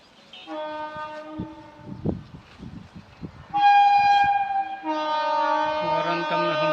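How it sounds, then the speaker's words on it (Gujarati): A Vande Bharat express train sounds its horn at a railway crossing: a first tonal blast, a pause with some rumbling, then two longer, louder sustained blasts from nearby, with no talk. "હોર્ન તમને સંભળાઈ રહ્યું હતું વંદે ભારતનું."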